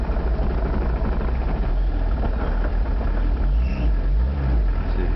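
Volkswagen Golf 2 TD diesel engine running steadily, a close, loud, low rumbling idle that holds without revs and has no talk over it.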